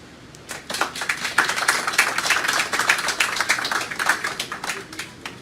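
An audience applauds a tribute to the security forces with steady, fairly close clapping that swells and then continues evenly.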